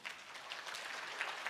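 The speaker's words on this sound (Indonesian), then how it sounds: "Tepuk tangan buat dia" Brief burst of audience applause at a church worship service, faint and distant, a soft even patter of many hands.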